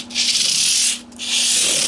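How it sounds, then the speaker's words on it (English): Sandpaper of 320 grit on a padded bullnose block rubs across guitar frets on a '91 PRS Custom 24, two steady close strokes of dry scratchy friction with a short pause between them. "This is 320 free cut sandpaper. It's a bullnose block with a pad on it."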